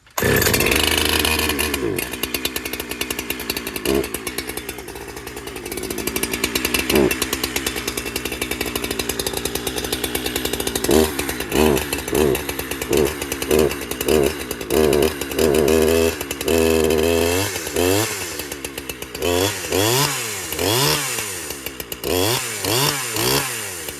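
A clone chainsaw runs loud and close throughout, holding a steady high idle before revving up and down repeatedly in the second half, with no talk over it.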